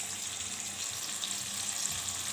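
Stuffed bitter gourd, coated in a roasted peanut paste, fries in hot oil. It gives a steady, close, even hiss with no pauses, and there is no talking.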